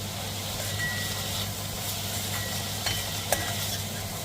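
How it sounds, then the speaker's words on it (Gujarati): Onions fry in a pan over a low flame with a soft, even sizzle, steady and close, plus a few faint scrapes from stirring and a low background hum, with no talking. "બરાબર રીતે મિક્સ કરી દેવાનું છે તો તમે જોઈ શકો છો કે ડુંગળીનો રંગ થોડો થોડો ચેન્જ થશે"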